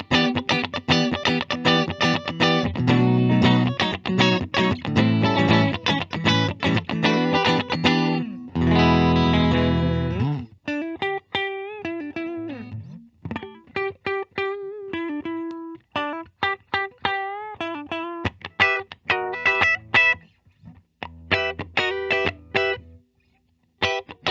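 Clean electric guitar notes and chords from a 2021 Fender Super Sonic on the middle pickup ring out with a bright, mid-focused tone, strummed and picked in bursts with short pauses between phrases.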